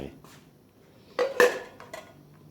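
Coffee cups clink and clatter as they are washed and put away, with a few sharp ceramic knocks bunched near the middle and one more toward the end over a quiet room.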